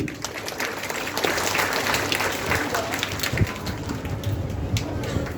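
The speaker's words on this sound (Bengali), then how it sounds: "এই সার্থক বাবা মাকে আমরা কিন্তু তালি দিতে পারি।" Audience clapping at a cadet college admission-test opening ceremony fills the hall as a steady, dense wash of applause throughout, with no voices rising above it.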